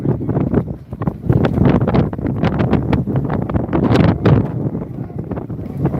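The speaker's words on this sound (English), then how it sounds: "It's a windy day in Dublin." Loud, continuous wind buffeting a microphone outdoors in Dublin, rumbling and gusting in uneven bursts with no speech.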